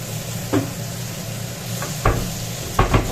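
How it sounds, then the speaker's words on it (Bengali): Skin-on potatoes browning in oil in a pan give a constant close sizzle, broken by a few sharp scraping stirs of a utensil against the pan. "আলুটাকে আগে একটু লাল লাল করে ভেজে নিচ্ছি"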